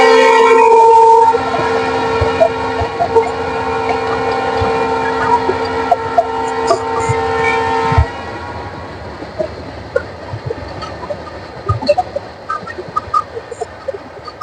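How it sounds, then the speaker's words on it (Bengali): A goods train carrying petrol passes by in rural Assam, a horn-like tonal blare fading out after the first seconds and leaving a rolling rumble with scattered clanks, while roosters crow in the background. "ট্রেন চলে গেল।"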